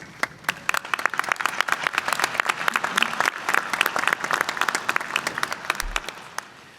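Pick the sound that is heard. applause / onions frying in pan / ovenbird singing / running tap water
applause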